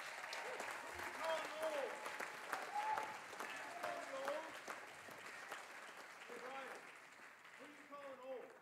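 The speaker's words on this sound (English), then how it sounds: "Give them a round of applause." Audience clapping and cheering after a student vocal group's set at a fall jazz concert, a sustained wash of applause with whoops and a voice speaking over it.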